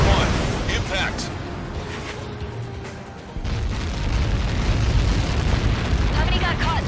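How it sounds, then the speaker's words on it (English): A missile strike in the jet combat game Ace Combat 7 produces a massive, rolling explosion, a loud sustained rumble that swells again midway, with radio voices talking over it. "How many got caught in that explosion?"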